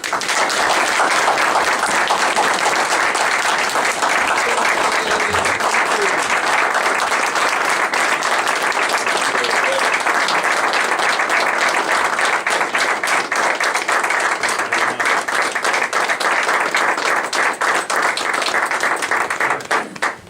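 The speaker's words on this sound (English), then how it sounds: "I think they deserve a huge round of applause and a big thank you." A room of people at a city board of aldermen meeting gives law enforcement officers a long, loud round of applause, dense individual claps sustained for about twenty seconds before tapering off.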